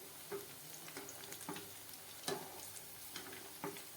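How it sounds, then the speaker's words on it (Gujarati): Gentle sizzling of vegetable dumplings frying in oil over a low gas flame, with soft stirring clicks and taps scattered throughout, close by and without speech. "ગેસને આપણે ધીમો કરી દઈશું અને આને આપણે ફેરવતા જાય અને સારી રીતે આપણે એને તળી લેશું"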